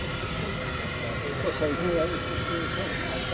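Avro Vulcan XL426 jet engines running during a taxi run, a steady loud roar with a whining hum held throughout, no voices on top.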